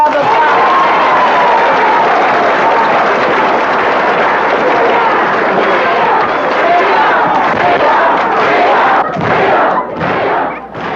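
A large crowd at a 1965 civil rights meeting in the American South breaks into loud, sustained applause and cheering that fills the room for about nine seconds, then thins into scattered claps and thumps.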